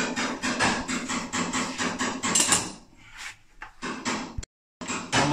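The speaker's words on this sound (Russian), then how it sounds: "Молоточек дуб-дуб-дуб покажем." A small hammer taps out dents in the body panel of a Mitsubishi Pajero Sport during paintless repair, a rapid string of close, sharp metallic knocks, pausing briefly before a few more taps.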